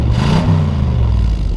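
A 1964 Buick Electra engine revving, a loud, close, low rumble that swells briefly near the start and then settles back to a steady idle.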